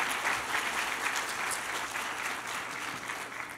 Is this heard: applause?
yes